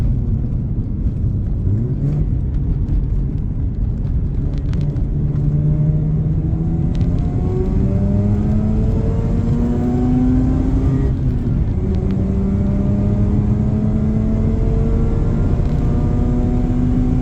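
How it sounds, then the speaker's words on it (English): A Mazda RX8 R3 with an engine swap pulls away and accelerates, its engine note climbing steadily through the gears with a loud, continuous rumble and whir from inside the car. "overall the car in itself actually drives really nice"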